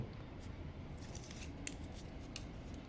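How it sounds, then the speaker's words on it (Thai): A large, heavy-duty DC53 steel knife with a thick spine, 15 inches long, slices through paper with a faint, steady rasp and a few soft, crisp ticks for about three seconds. "ตัดกระดาษได้สบายนะครับ"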